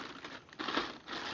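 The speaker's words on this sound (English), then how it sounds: "Let's pull the bag." A plastic bag wrapped around a 3-gallon pancake oilless air compressor is tugged and crinkled. The rustling is close and continuous, with a brief louder crackle midway and no talking.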